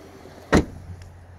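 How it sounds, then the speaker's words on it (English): The power liftgate of a 2019 VW Atlas 3.6 SEL 4Motion makes one short, loud mechanical burst up close, followed by a faint low hum and quiet. "In the back here, it is a power lift gate."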